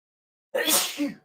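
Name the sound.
sneeze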